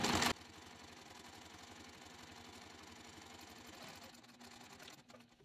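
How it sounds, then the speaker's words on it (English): A sewing machine top stitches along an edge with Tex 80 lilac thread, a size 18 needle and a 4.5 stitch length, humming in a fast, steady mechanical rhythm close up. It runs for several seconds and slows at the end. "we're gonna go and top stitch just along this top edge here"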